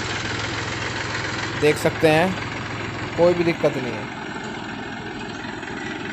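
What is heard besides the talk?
Mahindra 265 DI tractor engine running and revving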